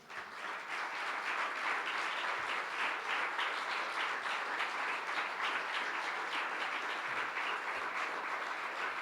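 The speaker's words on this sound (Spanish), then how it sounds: "Dale un aplauso." A church congregation claps in steady, sustained applause that stays at an even level throughout, with no voices over it.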